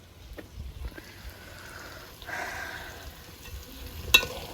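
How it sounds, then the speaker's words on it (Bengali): Pieces of meat being braised in released oil in a pan at home, a faint, steady low sizzle with soft scraping stirs and an occasional sharp clink of utensil against the pan. "গোস কষানো আমার প্রায় হয়ে গেছে। এই যে গোসের যে তেল ছাড়তে আছে"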